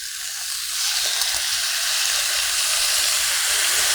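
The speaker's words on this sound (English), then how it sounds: "And put some soy sauce in the edge of the frying pan." Soy sauce hits the edge of a hot frying pan during a Korean spicy stir-fried pork dish. It gives a bright, steady sizzle and hiss that swells after the first half-second and holds, close and fairly loud.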